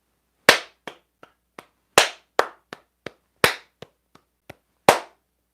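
Hand claps repeat in a steady loud-soft-soft-soft pattern, a sharp accented clap followed by three lighter ones, cycling about three times alone in a quiet room.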